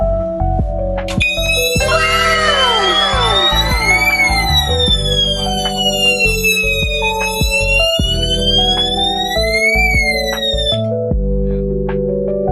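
A loud electronic alarm sounder whoops and warbles continuously with sweeping, siren-like tones, steady and close throughout.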